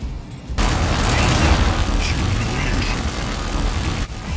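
Mech gunfire in the video game Mech Arena, a dense, loud continuous barrage of shots and booms running nearly the whole time, starting abruptly after a quiet moment and dipping briefly near the end.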